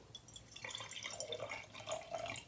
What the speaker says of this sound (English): Now I'm going to take the water and I'm just going to fill up the 3 colored jars.